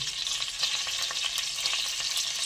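Chopped onion sizzling in hot oil for a stuffed mutha crab curry, a steady close crackling fry with small pops, no voices.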